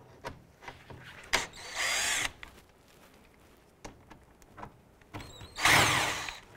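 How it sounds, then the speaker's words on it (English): Power driver spinning a T25 Torx bit to back out screws from the upper grille panel of a 2011-2018 Volkswagen Jetta, several short whirring bursts separated by quiet clicks and handling noises, close up with no talking. "We're going to use a T25 Torx bit to remove this screw and this screw on the driver's side upper grille panel."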